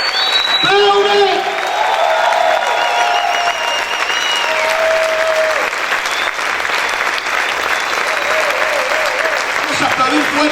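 A church congregation breaks into loud, continuous applause during a Spanish-language worship service, with voices shouting and calling out praise over the clapping.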